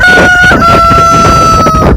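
A rooster at a farm sanctuary crows loudly and close, a strained, sustained call filling the whole moment with no talking.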